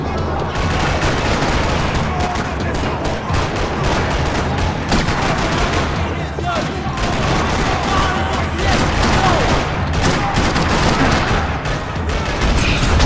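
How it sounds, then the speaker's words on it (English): Dense, continuous gunfire from the Max Payne 3 video game in a parking lot shootout, rattling bursts and overlapping shots filling the whole stretch at a loud, steady level. "Another parking lot rattling with gunfire."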